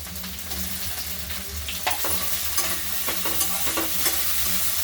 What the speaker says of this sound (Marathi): टमाटे मऊ होईपर्यंत परतून घ्यायचे